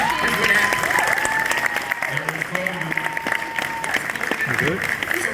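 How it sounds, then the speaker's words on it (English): A convention-panel audience at New York Comic Con 2023, at a Street Fighter 6 event, claps in a dense, sustained round of applause filling the room, with some voices mixed in. "Please, everybody give a round of applause for Eric"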